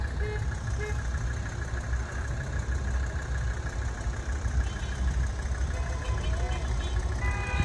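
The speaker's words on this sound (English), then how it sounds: "he can't even hear me over all the honking and the sound of his engine." Truck engines rumble at idle during a truck parade through McKinleyville, California, a loud, steady low drone filling the whole stretch with no clear break, and voices occasionally mixed into the traffic noise.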